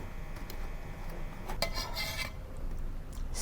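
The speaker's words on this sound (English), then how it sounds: "apply the kaya generously on the toast" A knife spreads kaya over toast, making faint scraping and rasping strokes with a few brief louder scrapes, close and quiet, no talking.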